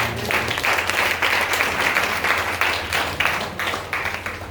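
A church congregation claps and applauds for Jesus in a dense, sustained burst of many hands, strong and lively throughout.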